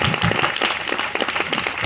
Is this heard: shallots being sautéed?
no